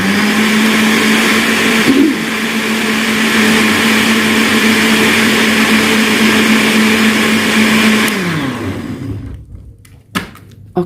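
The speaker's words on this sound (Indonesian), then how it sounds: "Saya blender sebentar lagi." A blender processing moringa leaves runs with a loud, steady whine, then winds down as it is switched off, followed by a few sharp clicks and clatters.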